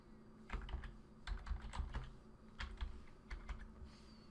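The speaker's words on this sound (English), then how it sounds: "I need to put in my username and password." Computer keyboard keys tapped in short bursts while typing a username and password, clusters of crisp clicks separated by brief pauses, close and alone with no talk.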